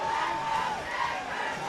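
Spectators packing the stands at Avery Aquatic Center for the UCLA vs. Stanford NCAA men's water polo semifinal, a steady wash of crowd murmur and calls echoing through the venue, with no clear cheer peaks.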